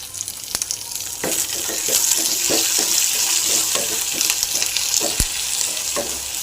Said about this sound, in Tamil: சாம்பார் வெங்காயம் போட்டு நல்லா ஃப்ரை பண்ணிங்க நல்லா ஃப்ரை ஆகட்டும்